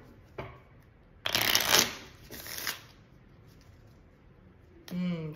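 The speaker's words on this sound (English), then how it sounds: "Fresh deck of cards." A fresh deck of playing cards is shuffled at a board game table, with a soft tap and then a long riffling burst followed by a shorter second riffle, close and fairly quiet.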